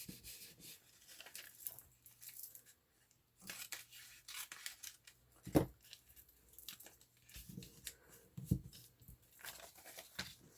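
Scissors snip through paper in a few separate cuts, with soft rustling and handling in between, close and quiet, no talking.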